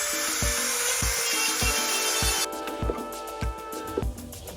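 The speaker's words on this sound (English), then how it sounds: "we open the hole with the Dremel" A Dremel cuts a hole in a Honda Dax 125 with a high, close whine over regular knocking beats; the grinding stops partway through, leaving lighter taps and scraping.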